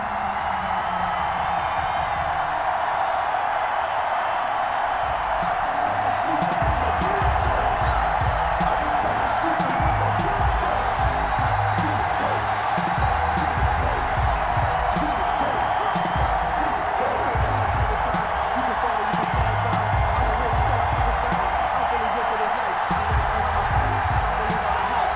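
A home stadium crowd cheers in a Madden NFL game at a Rams versus Dolphins matchup, a steady loud roar with whoops throughout, while a commentator talks over it.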